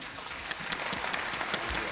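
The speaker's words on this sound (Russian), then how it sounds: "Аплодисменты." Audience applause at an award ceremony on a stage, dense continuous clapping from a crowd with a few sharper claps standing out, lasting about two seconds.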